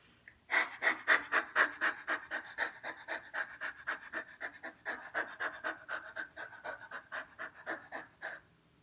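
A person doing yoga puppy breathing, panting rapidly in and out through the mouth with tongue out, a quick even rhythm of short breathy puffs close to the mic that gradually softens.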